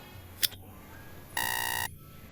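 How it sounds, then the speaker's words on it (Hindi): A quiz countdown timer sounds a single electronic buzzer tone of about half a second, preceded by a brief sharp click, with no voices. "इसका सही आंसर देने के लिए 5 सेकंड का टाइमर स्टार्ट हो चुका है"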